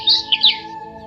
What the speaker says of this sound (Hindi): चिड़ियां मीठी आवाज में चहचहा रही थीं।